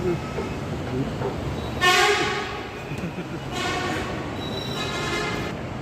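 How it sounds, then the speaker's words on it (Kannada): A Bengaluru metro train rumbles into the station, sounding several short horn blasts as it approaches, over a steady background of station noise. "ಸೊ ಡಬ್ಬ ಮೆಟ್ರೋ ಬರಂಗೈತಿ"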